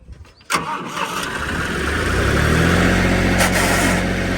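A John Deere 5310 tractor engine cranks and catches loudly, then settles into a heavy, steady rumbling idle close by.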